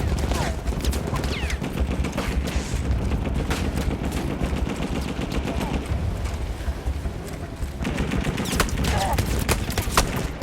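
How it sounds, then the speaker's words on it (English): Sustained machine gun fire in a combat video game, dense and loud with overlapping bursts and distant booms, continuous throughout, with a voice talking underneath. "Alright, machine gun time!"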